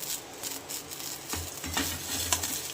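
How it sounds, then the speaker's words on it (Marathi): Garlic and spices dry-roast in a pan, making a faint, close rustling sizzle with a few soft scrapes and light clinks of stirring throughout, no voices. "आता आपण थोडा लसण पण याच्यासोबतच भाजून घेणार."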